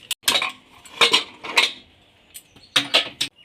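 Metal utensil clinks and scrapes against a cooking pot as chopped bottle gourd is stirred with turmeric powder, a few sharp clatters in short bursts with quiet gaps, close and clear with no voices.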